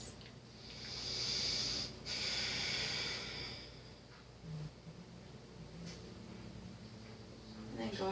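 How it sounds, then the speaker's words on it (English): Slow, audible breaths during a yin yoga pose, long soft airy inhales and exhales close to the microphone, with quiet ambient room tone between them. "Just 2 more breaths."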